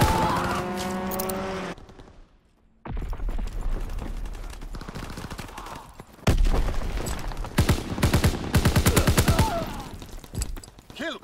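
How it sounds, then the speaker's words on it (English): Strafing gunfire from a fighter plane in Call of Duty WWII in the Ardennes Forest, rapid bursts of automatic fire and heavy booms that start after a brief lull and grow louder and denser. "Fighter pilot inbound, strafing the target."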